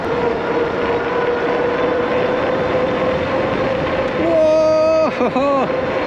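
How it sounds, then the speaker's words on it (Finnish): A 750 W Vakole CO26 electric mountain bike rides fast, with loud steady rushing wind and a constant motor whine whose pitch bends and wavers near the end. "tää on niin nopee! 40! 750 vatin moottorillakin vielä. Kyllä muuten lentää."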